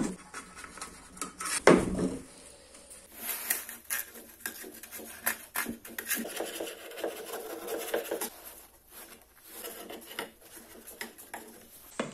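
Pieces of cut stone wool are pushed and packed into a metal mesh on a profile-tube frame, giving soft rubbing, scraping and occasional light metallic taps close by, irregular and fairly quiet throughout.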